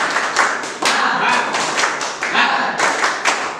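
An eighth-grade science class claps together in a quick rhythmic pattern, with sharp, evenly spaced bursts of many hands that continue steadily without a pause.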